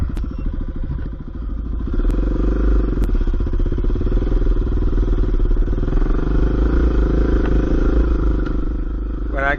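A dirt bike engine plunks along at low revs, climbing a hill on a trail in gold country near Nevada City, California, with a steady close chugging drone and some clatter throughout.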